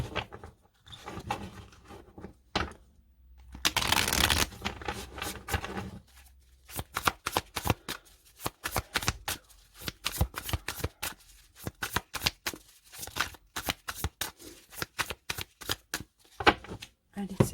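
Tarot cards shuffled by hand, rapid riffling bursts and crisp repeated card slaps in quick irregular rhythm, close and clear, with a brief spoken moment near the start.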